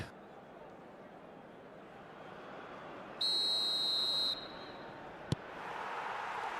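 A referee's whistle sounds in an eFootball match between halves, one sustained shrill blast of about a second, clear over a faint crowd hum, followed by a brief click.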